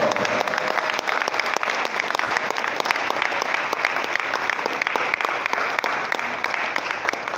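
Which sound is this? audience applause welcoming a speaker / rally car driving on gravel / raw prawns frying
audience applause welcoming a speaker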